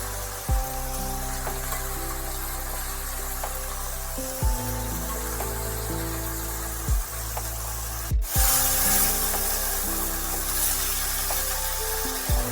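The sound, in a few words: boiled cauliflower stalks, radish and potato added to the pan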